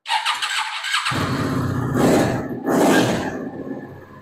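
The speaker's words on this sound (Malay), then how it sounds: "V-twin engine 500cc" A 500cc V-twin motorcycle engine starts and runs loudly nearby, revving twice in quick bursts with a rough, throbbing mid-pitched roar, then settling back down.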